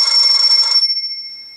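Firefox OS Classic Electric ringtone on a ZTE Open handset, a bright buzzing electronic bell trill that rings loudly for under a second and then leaves a thin ringing tone fading out alone.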